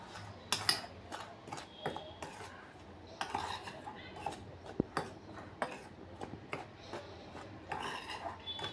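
A spoon knocks and scrapes around a bowl while dry batter ingredients for pui leaf fritters, turmeric among them, are mixed, giving irregular clinks and rasps that carry on steadily at low level.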